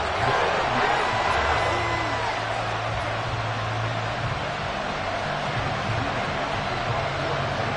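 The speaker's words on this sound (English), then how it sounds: "This crowd alive again." A football stadium crowd roars in the fourth quarter after a game-tying extra point, a loud, dense, sustained wash of cheering that holds steady from start to finish.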